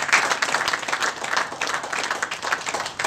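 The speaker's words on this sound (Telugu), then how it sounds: "ఒకసారి గట్టిగా చప్పట్లు కొట్టండి" A seated audience at a motivational speech breaks into loud, sustained clapping, a dense, even roar of many hands with no pause.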